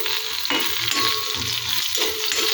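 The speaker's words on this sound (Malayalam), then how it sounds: "എങ്കിൽ ഉള്ളി ഒന്നും കൂടെ ഒന്ന് മൂക്കട്ടെ" Onions sizzle steadily in a hot pan for a Kerala-style prawn and ridge gourd curry, a close, continuous frying hiss with occasional stirring scrapes and no voices.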